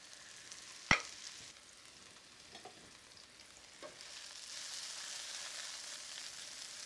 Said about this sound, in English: I want every mushroom to hit the heat while I chop up the broccoli into bite-sized pieces.